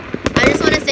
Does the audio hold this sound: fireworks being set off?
yes